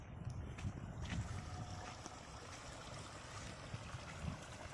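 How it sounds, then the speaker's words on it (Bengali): Pumped water gushes and splashes continuously into a pond, a steady rushing flow with low rumbling underneath and no speech. "এবার প্রচুর পানি ঢুকছে"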